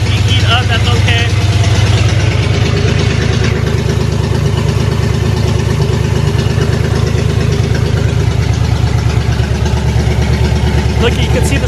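A 1968 Ford Mustang Fastback V8 with freshly fitted long tube headers idles loud and close, a steady rumbling lope throughout, with voices talking over it.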